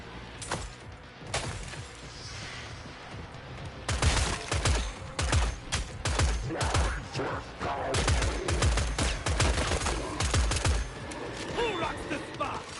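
Automatic turret in Killing Floor 3 firing rapid bursts of gunfire, near and loud, starting as sparse shots then growing into dense volleys with crashes and thuds, under occasional voices.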